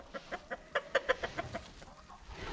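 Farm chickens cluck in a quick run of about a dozen short rhythmic calls, close and clear over faint outdoor background.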